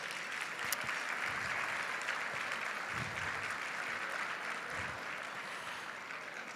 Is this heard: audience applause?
yes